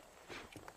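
Horse hooves clip-clopping in the Red Dead Redemption video game, a few soft, quick hoofbeats at low volume against a faint background, with no talking.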